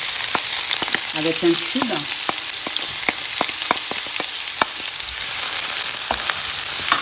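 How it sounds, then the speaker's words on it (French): Two chopped onions frying in hot oil for a meat and vegetable pastel filling, a steady broadband sizzle with scattered pops and crackles, a brief voice speaking over it early on. "Je vais faire revenir mes oignons"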